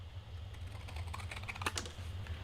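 Paper card being cut by hand at a craft desk, a few crisp snips and scraping strokes clustered near the middle over a steady low hum, close and fairly quiet, with no voices.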